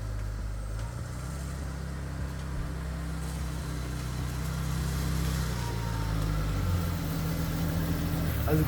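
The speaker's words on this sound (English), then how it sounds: "I deliberately left the car on right now. So we'll let the car warm up" A BMW E46 car engine idles while warming up, giving a steady, close low rumble that holds evenly throughout with no talking.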